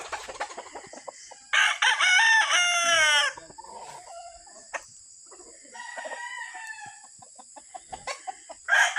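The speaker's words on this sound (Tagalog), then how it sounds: "Daming manok dito, mga panglaban." Roosters crow loudly and close at a gamefowl farm raising fighting cocks, with two long crows standing out among scattered clucks and farmyard noises, with no talking.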